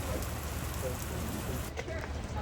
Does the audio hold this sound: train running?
no